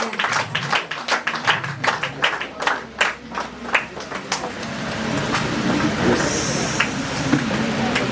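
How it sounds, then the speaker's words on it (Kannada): An audience at a women's association dance-bhajan troupe performance in Padil, Mangaluru, claps loudly in ragged bursts that thicken into sustained applause from a crowd. "ಜೋರಾಗಿ ಚಪ್ಪಾಳೆ."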